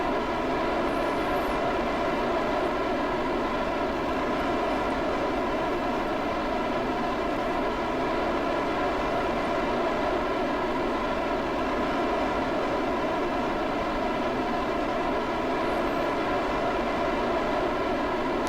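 Rocket engines fire in Kerbal Space Program, a steady, loud roar with a humming tonal drone that holds evenly, close and unbroken, with no voices.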